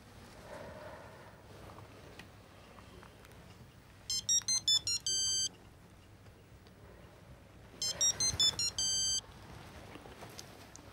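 A mobile phone rings indoors in two bursts of a bright electronic melody, each a quick run of tones ending in a held note, over a quiet room hum.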